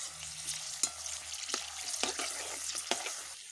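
Potato kurkure fry in hot oil with a steady sizzle, broken by a few sharp stirring clicks and scrapes from a utensil close by.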